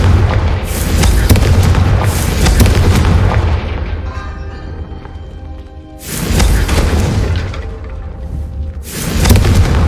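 Fiery spell blasts from Hogwarts Legacy, Confringo and Incendio, go off as heavy booming explosions, three big bursts separated by crackling, rumbling decay.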